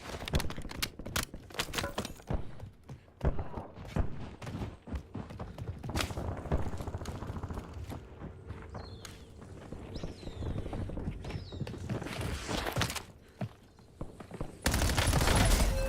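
Rapid gunfire crackles in the Warzone video game, with dense bursts of shots and clattering impacts throughout and a louder, closer burst near the end.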